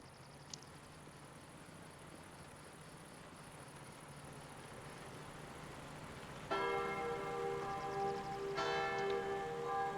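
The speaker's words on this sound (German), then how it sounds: "Es ist also super, dass da die ganze Glocke läutet." A church bell starts ringing from a tower in the video game Sniper Elite Resistance, rich metallic tolls rising out of a steady ambient hum partway through, struck repeatedly and ringing on loudly.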